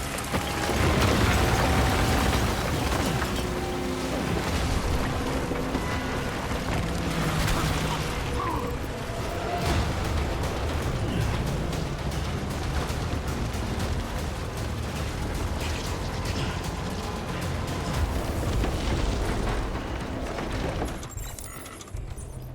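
Grenade blasts in Death Stranding, a dense stretch of heavy booming rumble and crackling debris, loud and sustained before fading out at the end, with no clear talking.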